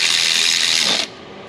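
A ratchet with a wobble extension working a 10mm bolt on a 2008 Jaguar XJ 4.2, a steady close rasping stream of fast clicks that stops abruptly after about a second.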